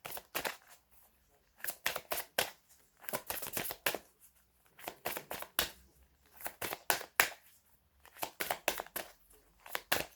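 Tarot cards being drawn and handled for a reading, with bursts of close, crisp card shuffling and sliding in irregular clusters separated by short quiet gaps.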